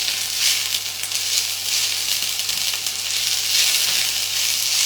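Onion sizzling in a hot frying pan, a loud continuous hiss with a steady crackle, heard up close and alone.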